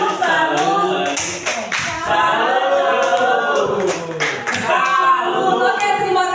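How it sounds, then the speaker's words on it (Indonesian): A group claps a rhythmic 'tepuk salut' pattern at a school teachers' positive-culture session, with sharp clap bursts punctuating a steady stream of voices talking or chanting along. "tepuk salut untuk Pak Daniel."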